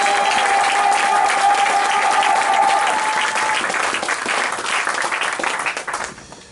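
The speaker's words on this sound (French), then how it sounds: "Applaudissons pour le Seigneur Jésus-Christ." A church congregation applauds for Jesus Christ, a loud dense wash of clapping hands that holds steady with a faint sustained tone underneath, then tapers off at the end.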